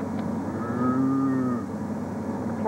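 A cow named Daisy lows once in a long, drawn-out moo lasting over a second, moderately near in an open outdoor spot in Colorado, with steady background rumble.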